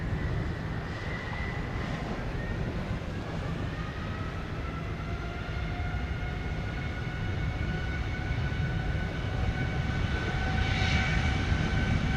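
A heavy jet airliner departs runway 07 at Sangster airport in Montego Bay, Jamaica, its engines giving a loud, steady roar that holds throughout with a rising whine on top, and no voices.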